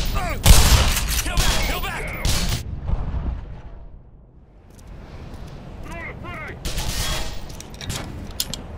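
Grenades burst in the shooter game Black Mesa, a loud cluster of booms and crackling gunfire up front, a brief lull, then more blasts and shots return, with someone talking over the action.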